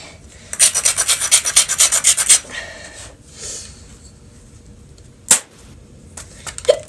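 Rhythmic rasping strokes of an abrader scraping the platform edge of a flint core during flintknapping, a quick close burst of about a dozen scrapes, then quiet followed by a single sharp click.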